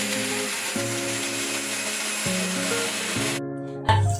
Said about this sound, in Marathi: आतां आमी मिक्सर मारून ते वांटून घेवया.